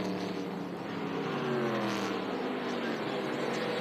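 NASCAR K&N Pro Series East race cars running at Memphis International Raceway, a faint, distant blend of engine drone and passing cars, with a commentator's voice faintly underneath.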